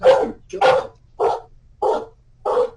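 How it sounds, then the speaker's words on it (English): A dog barks five times in a steady, evenly spaced series, close and fairly loud, with a low hum underneath. "I don't know if he's barking because I'm talking."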